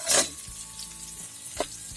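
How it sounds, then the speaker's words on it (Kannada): Red chillies fried in a pan for Mangalorean marwai pundi, a soft steady sizzle broken by two short scraping stirs, near and alone. "ಈಗ ಕೆಂಪು ಮೆಣಸು ಹಾಕ್ತಿದ್ದೀನಿ. 12 ಮೆಣಸು ತಗೊಂಡಿದ್ದೀನಿ."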